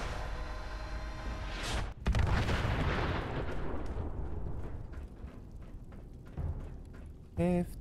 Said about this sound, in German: Explodiert gleich was. Achtung!